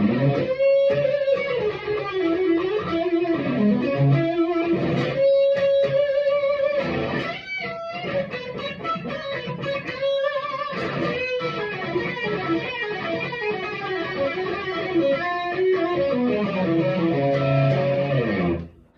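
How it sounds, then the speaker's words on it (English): Electric guitar driven through a heavy overdrive pedal set to distortion territory for hard rock, playing loud sustained chords and riffs with brief gaps, continuous and close for about nineteen seconds, no talking. "I use it kind of as a really heavy overdrive, pretty much distortion kind of territory"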